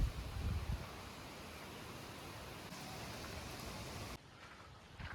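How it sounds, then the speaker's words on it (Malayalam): Steady rushing wind sweeps through trees with a soft rustle of leaves, then drops to a quieter hiss near the end. "മരമൊക്കെ കാറ്റടിച്ച് ഇങ്ങനെ ഒലഞ്ഞൊലഞ്ഞ് നിൽക്കും ഇപ്പം ഒരു നല്ല കാറ്റുണ്ട്"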